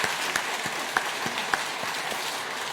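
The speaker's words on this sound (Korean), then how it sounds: "우리 서로를 보면서 잠깐 박수 치셨으면 좋겠습니다." A church congregation at a Korean New Year's Eve worship service applauds together, with sustained clapping and a few sharper individual claps standing out at a moderate, even level.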